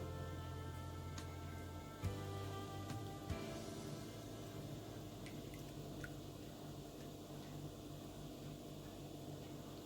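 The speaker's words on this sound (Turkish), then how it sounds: "bir su bardağı yoğurt, yarım su bardağı sıvı yağ katalım ve biraz karıştıralım." Yogurt and vegetable oil are stirred together in a bowl for a potato cake batter, giving faint, wet squishing and dripping sounds with a few soft clinks, steady and close.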